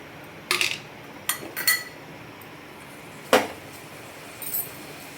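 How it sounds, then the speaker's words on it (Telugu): A few sharp metallic clanks of a pot being set down and shifted, close and distinct, separated by quiet gaps. "గిన్నె పెట్టి గిన్నె పెట్టుకున్నాను"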